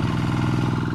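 A hand tractor engine working a wet rice field chugs in a fast, steady, rattling pulse, close and loud for a brief moment.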